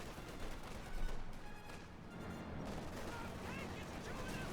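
Gunfire and artillery from a Company of Heroes 2 match, Wehrmacht against US Forces with Shermans and Panzer IVs, forming a steady, dense wash of battle noise with a heavier thump near the start. A commentator talks over it throughout.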